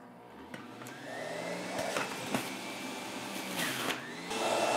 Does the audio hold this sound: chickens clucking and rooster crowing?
no